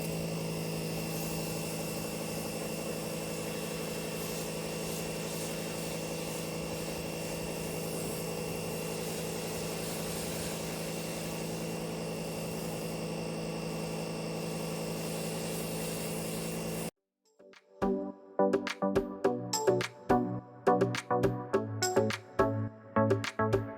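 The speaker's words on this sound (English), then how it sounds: "I like to go through and just pressure wash the entire car, try to get all that top layer of grime off" A pressure washer sprays down a Porsche Carrera 911, holding a loud, steady mechanical drone for about seventeen seconds before it cuts off abruptly and different intermittent sounds take over.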